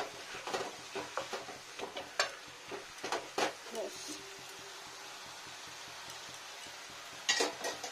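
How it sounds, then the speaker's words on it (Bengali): Boiled potatoes and green chillies get mashed in a pan while cooking a vegetarian cabbage dish, producing a run of soft clanking utensil taps and scraping strokes, then a quieter pause and a final few knocks, with talk over it. "এবার আলুটা একটু স্ম্যাশ করে দেবো"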